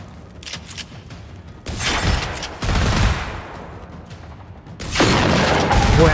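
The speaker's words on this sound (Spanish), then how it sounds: "Aquí en sitio cerrado es una maravilla la escopeta" Shotgun firing in Generation Zero inside an enclosed bunker: three loud, heavy blasts spaced a couple of seconds apart, each with a booming, reverberant tail, and quieter mechanical clatter between them.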